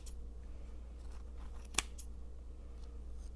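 Scissors trimming chunky baby yarn on a crochet pompom, one sharp close snip standing out clearly against a quiet background, with a few fainter cuts around it.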